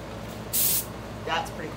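A compressor-driven paint sprayer gives two short hissing bursts of paint onto a wedding dress, the first loud and airy, the second softer, with people talking nearby.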